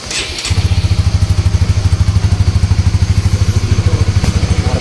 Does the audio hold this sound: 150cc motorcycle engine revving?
yes